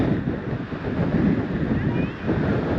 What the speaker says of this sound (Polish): Wieje, to mało powiedzieć.